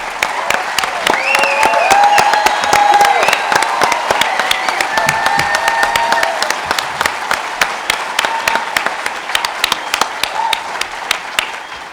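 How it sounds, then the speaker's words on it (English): A large press conference audience applauds loudly and steadily, dense clapping with some scattered cheers, gradually thinning toward the end. "so we can give you a round of applause"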